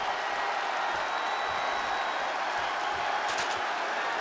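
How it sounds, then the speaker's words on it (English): Arena crowd noise from WWE 2K20 during a TLC wrestling match: a steady, dense roar of cheering and applause from a capacity crowd, continuous and fairly loud throughout. "With every move you make, you hear this capacity crowd following you on that journey."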